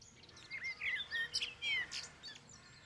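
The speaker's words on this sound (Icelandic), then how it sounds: "Og þau syngja fuglasöng." Little birds chirp and sing in a children's show, a close, clear run of bright tweets and warbling trills with no talk over them.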